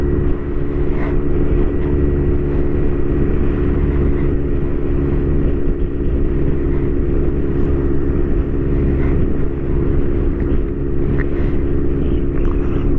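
A Kawasaki GTR1400 motorcycle fitted with a Delkevic full exhaust system runs steadily nearby, a loud, constant low engine drone with no talking over it.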